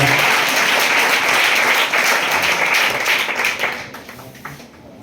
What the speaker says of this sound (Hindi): थोड़ा जोरदार ताली से स्वागत करें सर।